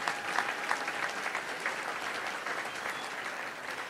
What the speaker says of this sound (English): let's give a big round of applause to all of our great sponsors